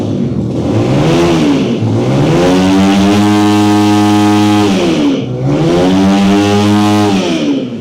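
An NSX motorcycle engine revving hard, a loud close throaty roar that climbs in pitch, holds high, dips briefly and surges again in two big pulls, with no talk.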